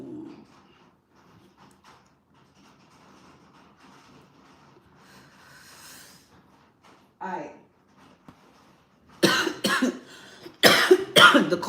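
A person coughs several times in quick, loud bursts toward the end, after a long stretch of faint, quiet background.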